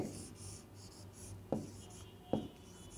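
Chalk or marker writing on a board, faint scratchy strokes in short bursts with two sharper taps, close and quiet.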